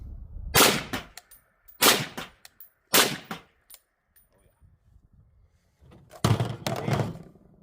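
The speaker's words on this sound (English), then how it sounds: "the proper way to make a rifle safe is just to shoot till you're out of bullets. So let's shoot some corn stalks." Four sharp, loud gunshots from an LMT MARS-H piston .308 rifle fired into corn stalks outdoors, each crack followed by a short echoing tail, the last two close together after a longer pause.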